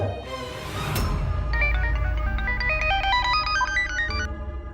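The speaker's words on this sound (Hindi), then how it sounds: "उसी रात रूपा का फोन आया" An electronic phone ringtone plays a repeating, warbling melodic pattern for several seconds, loud and close, cutting off near the end.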